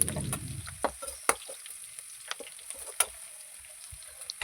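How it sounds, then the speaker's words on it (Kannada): Crushed garlic and green chillies fry in a pan for a Kannada alasande (black-eyed bean) palya, a soft steady sizzle broken by scattered sharp clicks and scrapes of a spoon stirring, close and fairly quiet, with no talking. "ಬೆಳ್ಳುಳ್ಳಿ ಹಸಿ ವಾಸನೆ ಹೋಗಿ ಗೋಲ್ಡನ್ ಬ್ರೌನ್ ಆಗೋವರೆಗೂ ಫ್ರೈ ಮಾಡ್ಕೋಬೇಕು"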